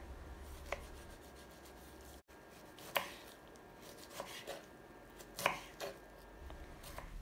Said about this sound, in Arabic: رح اقطعهم بالوسط وارفع هذا الجزء وبلش فرم